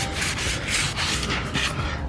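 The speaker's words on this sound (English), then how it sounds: "sanding all the surfaces" Steady rhythmic sanding on aluminium doors and window frames, a scratchy abrasive rubbing that repeats in short strokes, close and continuous.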